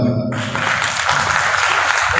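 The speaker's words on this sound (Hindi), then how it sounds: "जोरदार ताली से स्वागत किए।" Audience applause at a Mali Malakar welfare committee meeting honouring Savitribai Phule, a dense steady clapping that fills the whole stretch at close range after a brief opening.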